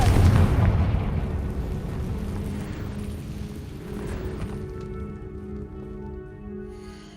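A blasting spell explosion in the video game Hogwarts Legacy, a single loud boom at the start with a long rumbling decay that fades gradually under a faint ambient drone.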